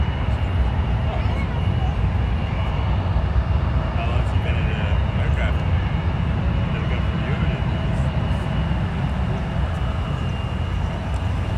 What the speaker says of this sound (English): This here is a 2-year-old Embraer